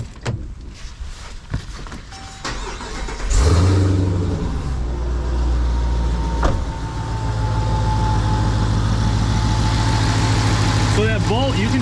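A Jeep Grand Cherokee Redeye Trackhawk tuned to 797 horsepower cranks with a few clicks and clunks, fires up with a loud roaring surge, then settles into a deep, steady, close idle.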